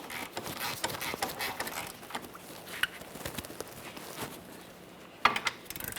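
A torque wrench tightens a rear lateral link bolt on a 2007-2017 Jeep Patriot: scattered metallic ratcheting and handling clatter, with two sharper clicks standing out near the middle and end, fairly close, no talking.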